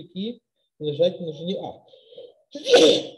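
A single sharp sneeze bursts out near the end of a topology practical class, following a stretch of a man's lecturing speech.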